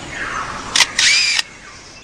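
A lyrebird in the forest mimics a camera with a motor drive, producing a quick burst of whirring, clicking shutter sounds, loud and near, over a faint steady background hiss.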